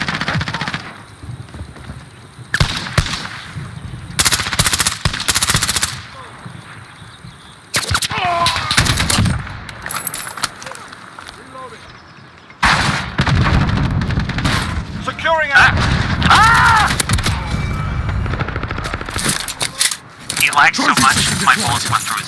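Rapid automatic gunfire and sharp shots from a Modern Warfare multiplayer match, loud bursts coming in several clusters separated by brief pauses, with players talking over the action.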